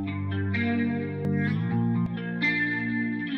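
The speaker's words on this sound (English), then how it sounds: "Just some very cool like chorusing like that." Electric guitar with an 80s-style chorus effect, playing loud, shimmering sustained chords and notes with a slight distorted edge, with no voices.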